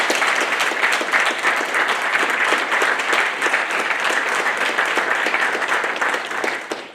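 A crowd of families and friends gives continuous, dense applause at a Navy Nuclear Field A School graduation ceremony for new third class petty officers, loud and unbroken for the whole stretch.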